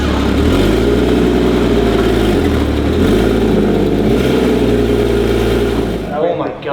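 A wrecked Porsche Cayman GTS, leaking coolant, runs its engine while being moved, a loud steady low hum with slight pitch shifts that cuts off near the end, with talk over it.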